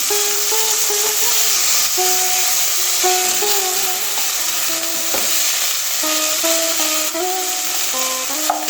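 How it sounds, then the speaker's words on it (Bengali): Broken hilsa fish heads sizzle in hot oil in a kadai, a dense, even frying hiss held at close range for the whole stretch, with occasional faint tonal squeaks above it. "মাথাগুলো একটু ভেঙে নিয়ে ভাজবো"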